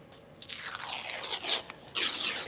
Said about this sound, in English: if it doesn't pop on its own, then you're gonna whack it again